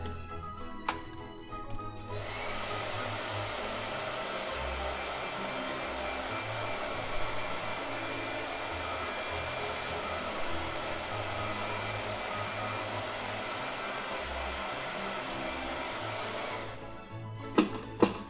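A blow dryer runs in a long, steady whooshing hum, switched on at the start and clicked off near the end, used to dry paint on a figure.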